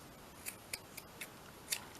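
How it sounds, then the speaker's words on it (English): A few crisp scissor snips cut a small piece off paper, five short sharp clicks spaced irregularly over two seconds, close and fairly quiet in a still room with no talking. "So if I do that, let's just cut this little bit off."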